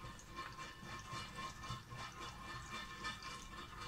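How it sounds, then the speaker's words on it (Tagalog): Water splashing and running steadily into a blender jar, a continuous close gushing with fluctuating splashes throughout and no voices. "pag blender yan natin, lalagyan natin ng tubig"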